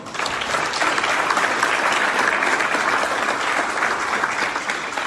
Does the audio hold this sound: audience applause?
yes